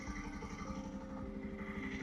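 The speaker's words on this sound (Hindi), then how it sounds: "आइडियल कंडीशन पर अब इंजन साउंड सुनो" Bajaj Pulsar 150 motorcycle engine idling, a steady low mechanical thrum with a faint even pulse, moderately quiet and close, heard alone without voices.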